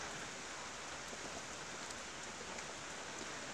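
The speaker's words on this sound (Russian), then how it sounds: "Сейчас 12 часов дня, а я все жду, когда кончится дождь" A downpour falls on a country garden plot, a steady, dense rushing patter of raindrops on surfaces, close and unbroken, with no voices.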